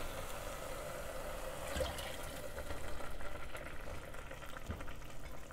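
Water is poured into a pot of lentil soup, a steady splashing, trickling pour heard close up with no talking over it.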